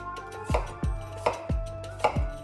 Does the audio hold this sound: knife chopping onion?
yes